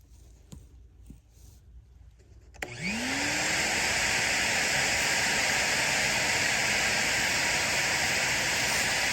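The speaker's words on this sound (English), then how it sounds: "once I turn this vacuum on, you're probably not going to be able to hear a whole lot" A vacuum cleaner switches on after some faint tapping, its motor whining up to a loud, steady rushing drone that continues without pause as it sucks out a yellow jacket nest.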